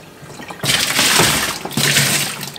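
Warm water splashes and pours over the inner walls of an LG semi-automatic top-loading washing machine tub during cleaning, in two loud rushing bursts at close range, with no voices.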